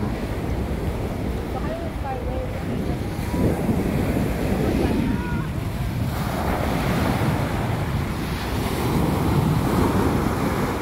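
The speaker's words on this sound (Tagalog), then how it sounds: "Maano ngayon, mahangin at saka maalon. Maalon ngayon yung dagat nila dito sa East Coast Park, Singapore." Waves breaking on a windy sea at East Coast Park beach in Singapore, with gusting wind buffeting the microphone and surf rolling in continuously while someone talks over it.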